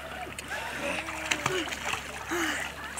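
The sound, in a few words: child swimming and splashing in sea water at beach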